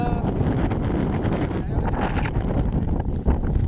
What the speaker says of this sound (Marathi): हे बघा किती छान वारा सुटलेला आहे